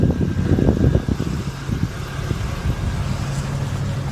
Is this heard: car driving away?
yes